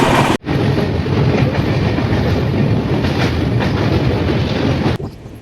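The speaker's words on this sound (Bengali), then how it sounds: "দেখতেই পাচ্ছ ভুবনেশ্বর জনশতাব্দী এক্সপ্রেস 3 ঘন্টা লেটে ছেড়ে রওনা দিয়ে ভুবনেশ্বরের উদ্দেশ্যে ছুটে চলেছে" The Bhubaneswar Jan Shatabdi Express roars past at close range in a loud, continuous rush of rail noise and clattering wheels lasting several seconds, with no voices.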